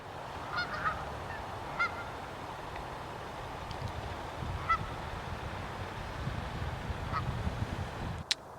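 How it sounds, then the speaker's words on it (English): A large flock of geese honks outdoors, their calls faint and distant, scattered in irregular bursts over steady wind noise. "there's a ton of geese just down there"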